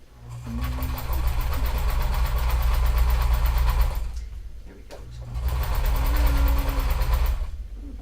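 A sewing machine bastes seams on a green trench coat, running in two loud, steady bursts of rapid stitching with a short pause between them, up close with no talk.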